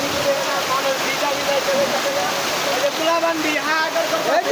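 Heavy rain pours down in a dense, steady hiss close by, with a voice talking under the downpour.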